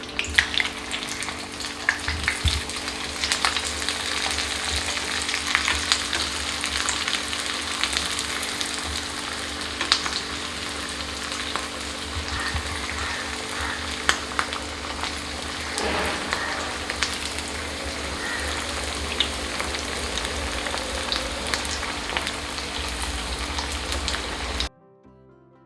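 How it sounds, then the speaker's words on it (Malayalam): Pinwheel samosas fry in hot oil with a loud, continuous crackling sizzle close by, steady for about twenty-five seconds before cutting off abruptly, and no one speaks. "ചൂടായ എണ്ണയിലേക്കിടാം."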